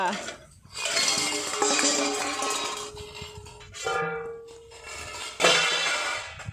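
Children bang metal cooking pots and dishes in a home, producing loud, irregular clanging and ringing hits in bursts, with short pauses and ringing tones between strikes and voices mixed in.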